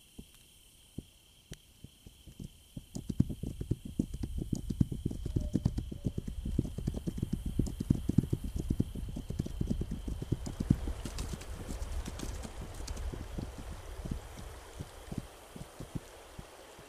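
Horse hooves clip-clop in a steady trotting rhythm in the video game This Land Is My Land, starting after a quiet opening, close and distinct over faint ambient background, then thinning toward the end.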